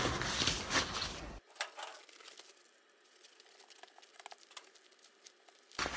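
Plastic packaging around a raincoat crinkles during unboxing, starting with a loud rustling burst and then dropping to softer, scattered crackles and rustles.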